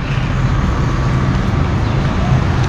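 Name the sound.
road traffic on Chakri Road, Rawalpindi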